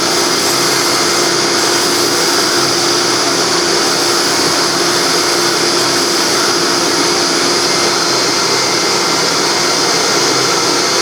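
Fine-grit sanding of a wooden bowl's beads as it spins on a lathe, a steady, loud broadband hiss with a constant motor hum underneath, continuous and alone for the whole stretch.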